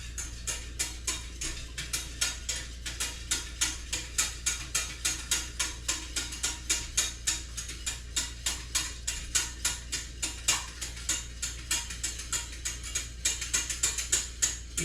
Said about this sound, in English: You can hear me whisking the gravy.